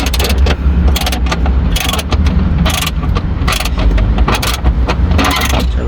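A hand ratchet loosens a nut on a Jaguar XE battery, clicking in quick, loud bursts of rapid pawl ticks separated by brief pauses, close up.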